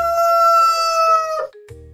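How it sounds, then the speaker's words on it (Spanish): One long, loud farmyard rooster crow rings out close by, holding steady before breaking off abruptly, with no talking over it. "Este es el sonido que hace el gallo."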